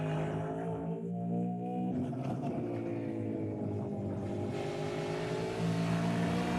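A race car at a Manawatu Car Club winter series club event drives through a tight S section, its engine loud, close and continuous, with the revs rising and falling and no voices.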